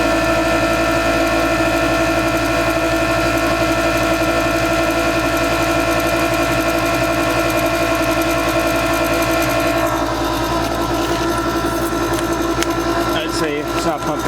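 An RV sewage macerator pump runs with a loud, steady mechanical whine and hum that changes character near the end as it stops pumping, with a voice faintly present.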